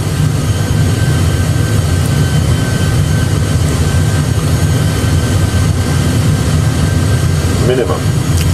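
Airbus A320 in a belly-landing approach, a loud, steady rumble and roar of engines and airflow throughout, with cockpit voices talking over it and a brief change near the end.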